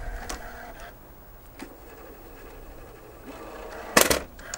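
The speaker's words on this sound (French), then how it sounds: "je vais vous ouvrir juste vite fait le lecteur cassette. J'adore ce bruit." A mechanical whir and clunk as an old camcorder's cassette compartment motors open, ending in a sharp clattering snap near the end, in a quiet room.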